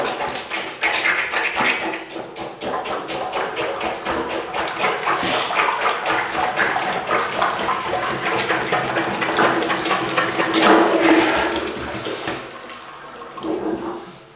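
Plunger working a clogged toilet, a run of wet sloshing, sucking strokes with water churning in the bowl, steady and close throughout.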